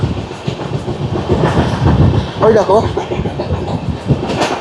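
The Howrah–NJP Shatabdi Express runs on the rails, a loud, steady rumble with rhythmic clickety-clack of wheels over joints heard from inside the train, with a brief voice over it.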